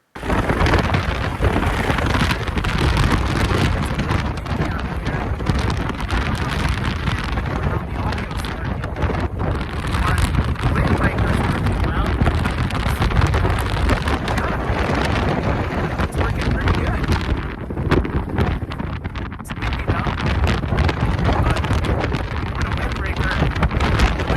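Strong wind roars without pause against a windbreaker jacket on the Haleakala summit on Maui, at 10,000 feet, as loud, steady, close buffeting with brief dips but no letup.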